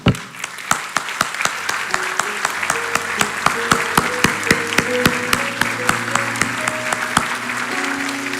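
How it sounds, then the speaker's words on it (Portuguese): A church congregation bursts into applause, loud and close, with a dense run of claps that carries on steadily, and a few voices rise over it. "eu quero dar uma salva de palmas pela tua vida"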